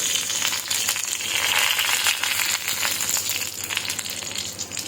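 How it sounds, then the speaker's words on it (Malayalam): Mustard seeds crackling and curry leaves frying in hot coconut oil in a heated iron pan, a continuous close sizzle with scattered pops and spits. "കടുക് പൊട്ടി കറിവേപ്പില ഇട്ട് കൊടുത്തു"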